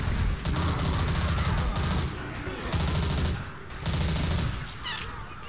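Bursts of rapid automatic gunfire in Left 4 Dead 2, loud and near, come in three or four clustered volleys separated by short gaps.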